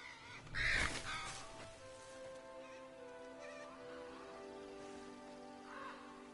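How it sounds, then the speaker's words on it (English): A bird in the game Moss lets out a single harsh, cawing squawk near the start, then a soft sustained tonal drone fills the rest with a faint later call. "A bird."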